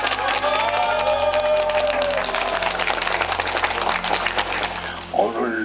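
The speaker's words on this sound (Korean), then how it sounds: "우리 힘찬 박수로 응원해 드립니다." A crowd at a gathering for forced-labour victims of Nippon Steel after a court win breaks into sustained applause, dense clapping with cheers and voices mixed in throughout.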